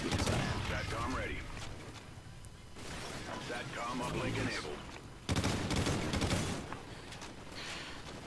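Gunfire rattles from the Ghosts shooter video game in loud bursts and sustained volleys with crashing impacts, broken by brief lulls, while voices talk over the action.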